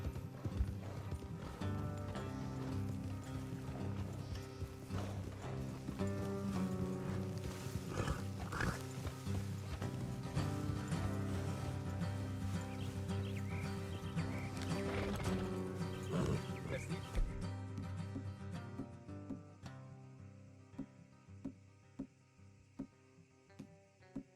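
Horses ride in the video game Red Dead Redemption 2, their hooves clip-clopping steadily under a layer of game music, with an occasional whinny. The hoofbeats turn into isolated, sparse clops as the horses slow toward the end.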